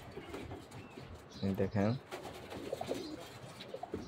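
Pigeons on a tin roof coo while eating, a short burst of close, throaty cooing in the middle, with someone talking before and after.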